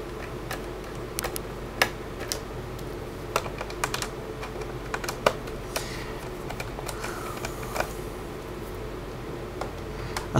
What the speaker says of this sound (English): Just remove the four screws that are holding it into the actual laptop itself.